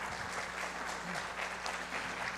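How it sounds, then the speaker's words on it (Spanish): Sustained applause from a workshop audience of judges at a judicial congress, steady dense clapping filling the whole stretch with no pauses. "Nuevamente un fuerte aplauso, por favor."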